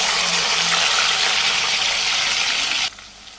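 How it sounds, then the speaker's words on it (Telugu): Green chillies and onions hit a hot pan and sizzle loudly in a steady wash of frying noise, close up, for nearly three seconds before the sound drops away abruptly. The dish being cooked is a dried fish curry. "పచ్చిమిర్చి, ఉల్లిగడ్డలు వేస్తాను."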